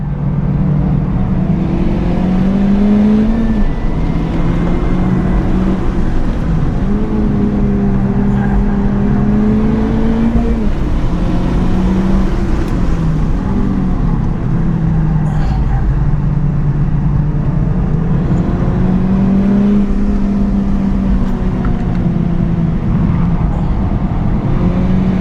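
A car driven hard around the Stratotech race track, its engine droning loud and close with repeated rising and falling revs through corners over a steady road and wind roar.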